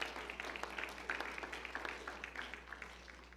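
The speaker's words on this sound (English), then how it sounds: "Let's give a round of applause for Jesus." Applause from a church congregation during a sermon, a dense patter of many hands clapping at moderate distance, fairly quiet and steady throughout with no voices over it.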